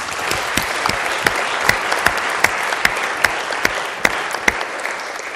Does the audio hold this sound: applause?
yes